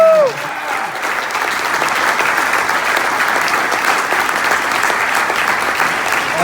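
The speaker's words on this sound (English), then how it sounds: "So let's all hear it for Dave Roberts" A luncheon crowd of baseball season ticket holders applauds a team manager, loud sustained clapping with some cheering filling the room for the whole stretch, just after a voice finishes speaking.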